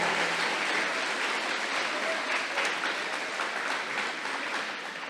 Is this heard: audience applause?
yes